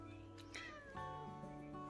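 A cat meows a few times nearby, faint and drawn-out, against a humming background in a room where nail art is being done.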